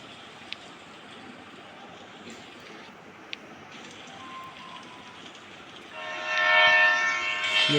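Train in the mobile game Choo Choo Charles: a low steady rumble of the running train with a couple of brief clicks, then a loud sustained horn blast near the end.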